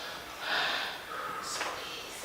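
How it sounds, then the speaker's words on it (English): Heavy, effortful breathing during a slow toning and strengthening mat workout, close and fairly quiet, a few drawn breaths and snort-like exhales over a hissy background, with no talk. "So if you're out of breath, you're starting breathing really heavily."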